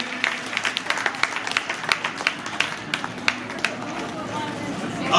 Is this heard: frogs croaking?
no